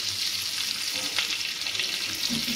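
Large pieces of fish frying in a pan, a steady close hiss of oil bubbling and crackling without a break, with no talk over it.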